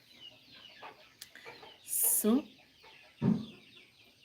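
Hens cluck in short, soft bursts around a moment of bright squawking near the middle, with a person talking quietly over the birds.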